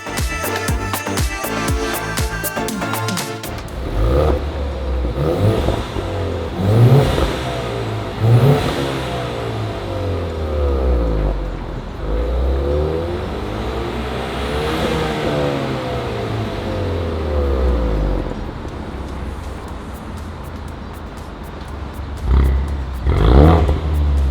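A Ford Mustang 2.3 EcoBoost fitted with an IPE Innotech exhaust and K&N filter revs repeatedly, each blip rising and falling in pitch, loud and close, with a brief crackling burst at the start and no talk.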